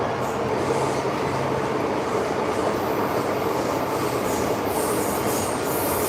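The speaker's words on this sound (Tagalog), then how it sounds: "Nasa Hong Kong po kami, MTR, sa mga pinaka-LRT nila." A Hong Kong MTR subway train runs at speed, a loud steady rumble and roar heard from inside the car, with faint high wheel squeals creeping in toward the end and no pauses.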